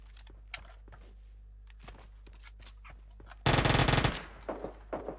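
An Uzi submachine gun fires in PUBG Mobile Lite in one loud, rapid burst of under a second, followed by a few scattered shots. Faint game noise and footsteps are heard before it.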